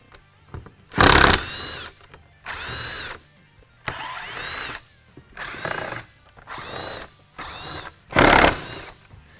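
A power driver whirs in seven bursts, each a second or so long, separated by short pauses, loud and close with no talking, removing the seven screws of a Jeep Wrangler JL third brake light trim.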